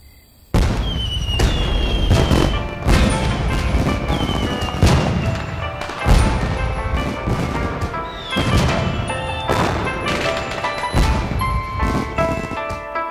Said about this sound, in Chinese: 这是只属于你一个人的烟花